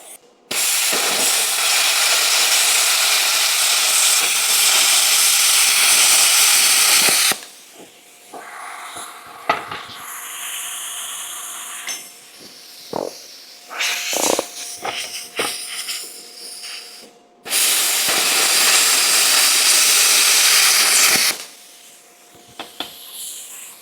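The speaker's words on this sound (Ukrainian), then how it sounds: "Реальна швидкість, щоб ви розуміли. Алюміній як масло." EX-TRAFIRE 45 HD plasma cutter slicing through aluminium, two long loud hissing roars separated by a stretch of quieter clatter and scraping as the metal is handled.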